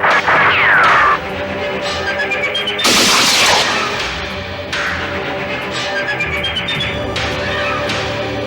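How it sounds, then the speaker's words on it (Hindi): Gunfire in a crime drama scene, loud sharp bursts and cracks with a heavy crash near the middle, irregular shots over a noisy background. "ये देखो, ये गोलियां चल रही।"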